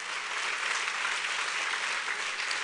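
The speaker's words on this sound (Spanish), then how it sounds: "Dale un fuerte aplauso de alabanza al Rey de Gloria." A church congregation gives a loud burst of praise applause to the King of Glory, a thick, even roar of many hands clapping, unbroken and uniform for the whole stretch.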